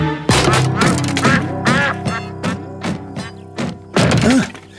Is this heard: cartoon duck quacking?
yes